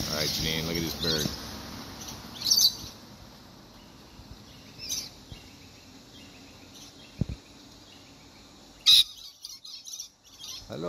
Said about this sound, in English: All right, Jeannine, look at this bird.